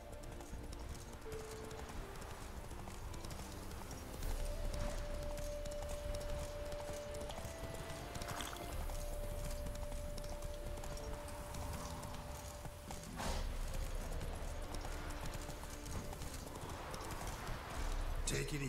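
A horse in The Witcher 3: Wild Hunt gallops with steady, continuous hoofbeats under game music and background noise, a faint whinny briefly heard.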